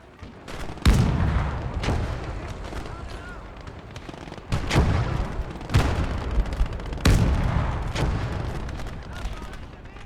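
Tank cannon and gunfire in the Eastern Front game Gates of Hell, with an M4A1 and a KV tank in the fight: four heavy booming shots roughly a second apart, each with a long rumbling tail over steady battle noise.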